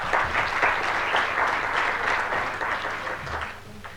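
An audience at a panel session gives a hearty round of applause to welcome a participant, a full, close burst of many clapping hands that stays strong throughout and eases off a little toward the end.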